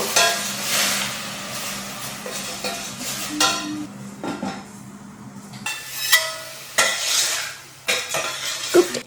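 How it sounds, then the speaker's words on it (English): Chopped spinach leaves (palak) sizzling and being stirred in a pan, with a spoon scraping and clinking against the metal in irregular strokes, close and fairly loud, with no talking. "I saute it until it becomes soft and then add in tomatoes."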